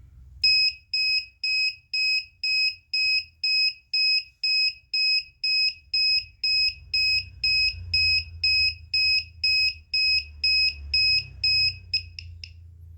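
Buzzer of a homemade gas leak detector project sounding a steady series of sharp, evenly spaced electronic beeps, about two per second, loud and alone over a faint low hum.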